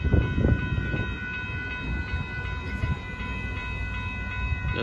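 A northbound Union Pacific mixed freight train approaches at speed, a steady low rumble with a faint rhythmic rattle, heard from trackside at a distance with no talking.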